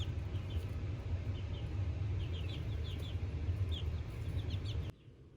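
Several chickens cluck softly and intermittently over a steady low background rumble, then the sound cuts off abruptly near the end.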